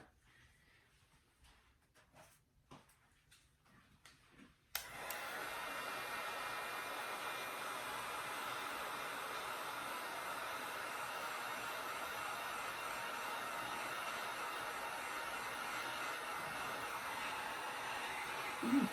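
A hair dryer blows hot air onto fresh paint on a craft piece. After a few soft handling taps, it switches on abruptly and holds a steady, close, whooshing roar to the end.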